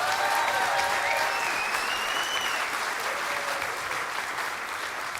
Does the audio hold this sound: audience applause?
yes